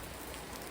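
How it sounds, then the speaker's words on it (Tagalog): Heavy rain pours down in a steady, dense hiss, with no voices heard over the continuous wash of falling water. "Sobrang lakas ng ulan ngayon."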